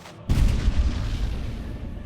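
A cannon booms in Age of Empires IV, a single loud blast that opens sharply and then rolls into a long, rumbling decay of distant artillery fire, with no talk over it.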